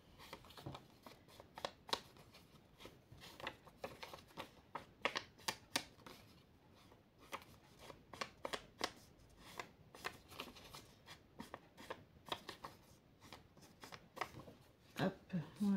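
Paper edges are inked with orchid ink while making a card, a close series of quick dabbing and brushing taps in irregular bursts, with a voice speaking softly now and then.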